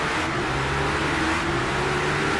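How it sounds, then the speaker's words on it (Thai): A steady, droning engine hum with a low rumbling tone, continuous and fairly loud: a motorbike revving in the racing game Drive Bike. "เสียงเครื่องนี่แบบว่า ดังฟังชัดมากครับ"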